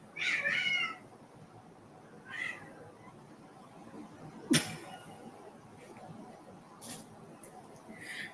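A cat meows twice, a longer call at the start and a shorter one a couple of seconds later, in a quiet room with a sharp click midway and a faint later chirp.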